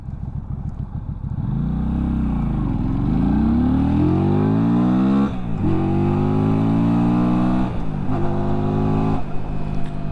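A Benda 300 motorcycle accelerating hard, its engine note loud and close, climbing through the gears with clear shift dips and rising revs, no voices over it.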